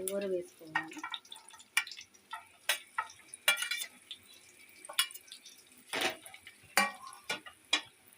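Dried red chillies and seasoning crackling in hot oil in a pan for red gongura chutney, sharp popping bursts spread through the stretch with a voice speaking briefly at the start.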